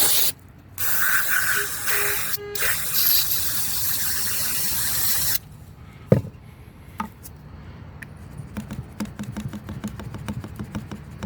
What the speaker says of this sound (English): let me just spray it down again